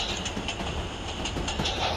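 A train rolls steadily through the Roblox Jailbreak game, a continuous rumbling wagon noise with faint clickety-clack, loud and close, with no talking.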